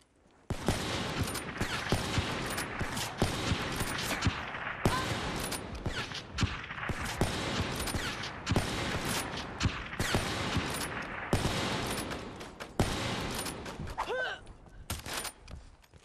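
Rapid bursts of automatic gunfire in Black Ops 3, sharp repeated shots in dense clusters with brief gaps, loud and close throughout.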